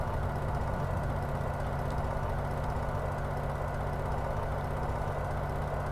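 Steady, loud drone of a 500-plus horsepower V12 engine on a Hawker Nimrod biplane in MSFS 2024, a constant low rumble with no change in pitch throughout.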